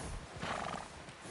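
A horse whinnies amid clip-clopping hooves in the Red Dead Redemption 2 video game, a brief, faint burst with no talk over it.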